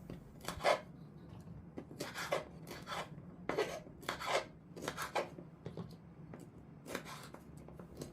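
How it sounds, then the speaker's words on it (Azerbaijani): Peppers are cut up with a knife for mixed pickles, in a series of close, crunchy slicing strokes that come in uneven bursts with a rasping edge. "Sonra biberləri də bu şəkildə doğrayıram."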